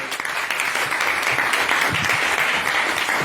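An audience claps after a set of debate speeches, a steady, dense round of applause from a crowd that holds at full strength for a few seconds and then cuts off abruptly.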